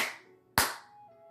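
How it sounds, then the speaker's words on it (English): Two sharp hand claps at a Japanese shrine, one fading before a second louder clap, with a faint tone lingering after; no voices. "we clap twice"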